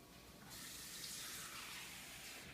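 Warm water runs from a kitchen tap for a batch of dough, a steady hissing gush that starts abruptly and continues close and alone.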